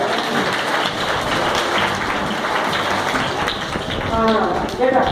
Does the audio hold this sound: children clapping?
yes